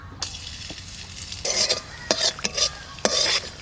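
Whole garam masala, cardamom, dried chilli and turmeric sizzling in hot oil for raw banana kofta, stirred with a spoon in scraping bursts over a steady fry, close and clear, no talk.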